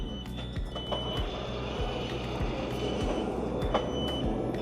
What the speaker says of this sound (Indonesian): sudah memasuki wilayah Göteborg Central, sebentar lagi kereta akan tiba.